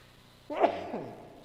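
A single sharp human sneeze during a Bible study class, breaking out suddenly after near silence and trailing off over a second.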